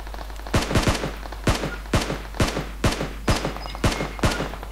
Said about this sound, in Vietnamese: xuống nơi nghe tiếng súng giòn vãi